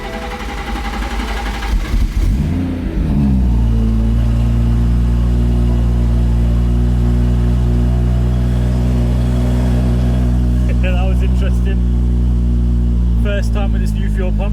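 A BMW M140i with a newly fitted fuel pump starts and settles into a steady, loud engine drone that holds throughout, with a brief rev near the start and voices talking over the engine toward the end.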